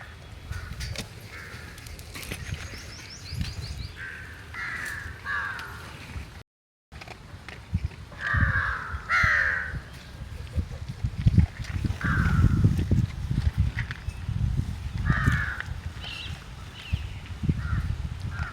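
Crows caw repeatedly in short harsh bursts, some near and loud, others farther off, over outdoor background noise with a brief dropout midway.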